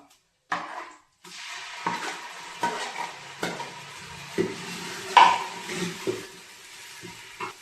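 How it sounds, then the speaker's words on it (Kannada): Ginger garlic paste frying in a pan over a wood fire for a village-style fish curry, with a steady sizzle broken by repeated scraping and stirring knocks of a spoon against the pan, up close with no talk. "ಇವಾಗ ಶುಂಠಿ ಬೆಳ್ಳುಳ್ಳಿ ಪೇಸ್ಟ್ ಹಾಕೋಣ"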